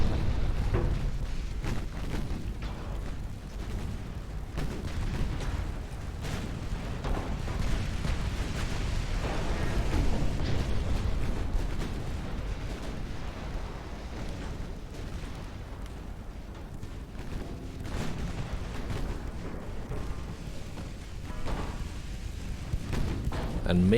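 Battleship gunfire in Ultimate Admiral Dreadnoughts: low, rolling distant booms and rumbling explosions that continue steadily for the whole stretch, partly under a speaking voice.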